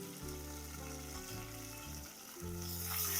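Ground spice paste fries in hot oil in a pan with curry leaves and sesame seeds, giving a faint, steady sizzle under background music, with no talking.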